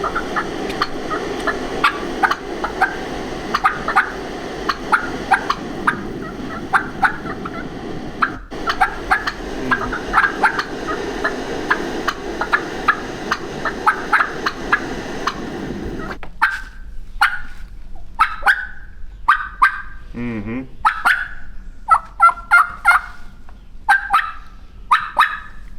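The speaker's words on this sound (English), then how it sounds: "Good job of doing that cluck that she's doing." Live turkey hens cluck and yelp, first amid dense outdoor background noise, then clear and close as sharp, repeated high-pitched notes in quick irregular bursts.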